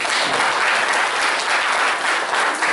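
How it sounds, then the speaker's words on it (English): Dense applause from a lecture audience at a conference Q&A session follows a talk, steady and loud throughout with no voices. "So please also join me in applauding Anil's excellent talk."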